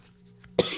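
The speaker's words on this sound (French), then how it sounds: "je suis prise d'une toux là" A woman gives a single short, sharp cough near the microphone after a moment of quiet room hum.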